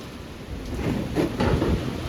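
A fierce rain and windstorm with thunder at 2 a.m., with a steady close wash of heavy rain and a low rumble that swells through the middle.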